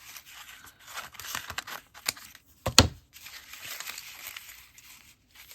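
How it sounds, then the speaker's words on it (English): Scissors snip through paper for an art journal, a few close, quiet cuts with one sharper crisp snip partway through, mixed with light paper rustling. "Actually, I think I'm going to cut this."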